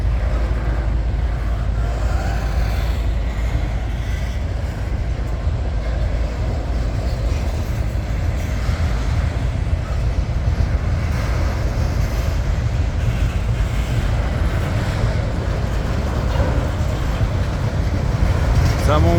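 Norfolk Southern locomotive 8171 rolls past with its train, a steady loud rumble and clatter of rail cars that carries on unbroken throughout.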